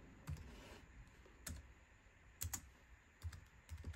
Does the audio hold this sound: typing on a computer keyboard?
yes